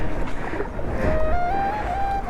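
A rowing boat is paddled through water during a boat race, with close, rough sloshing and splashing under a thin rising tonal whine.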